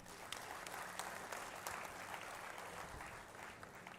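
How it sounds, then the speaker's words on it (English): Steady applause from a conference audience fills the whole stretch, a dense, fairly distant patter of many hands with no talking. "A big round of applause"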